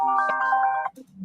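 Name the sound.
phone ringtone ringing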